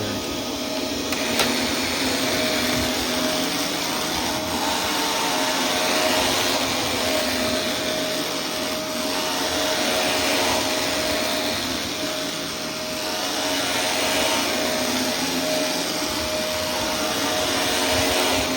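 A steady, loud whirring drone of a Dyson DC24 upright vacuum cleaner running continuously in a bedroom, with a broadband hiss and a faint high whine throughout.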